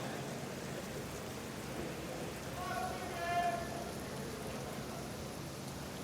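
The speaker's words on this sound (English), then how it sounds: "The rain, somewhat soothing in this situation." Rain ambience in the Counter-Strike 2 video game forms a steady, soft hiss of falling rain throughout, faint and even, with a brief muffled tonal sound partway through.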